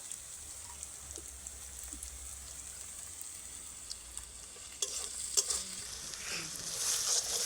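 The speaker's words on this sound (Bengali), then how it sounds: "পেঁয়াজ, আদা, রসুন সমস্ত কিছু খুব সুন্দর লাল লাল করে ভাজা হয়ে গেছে।" Onion, ginger and garlic fry in a pan outdoors with a soft, quiet sizzle, punctuated by occasional stirring scrapes that grow busier toward the end.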